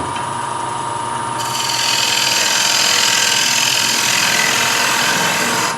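A lathe tool scrapes a spinning wooden platter, giving a steady, close rasping whir that swells louder after the first second and then runs evenly to the end.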